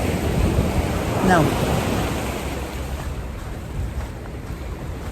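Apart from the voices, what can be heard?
ocean waves at the shore near tide pools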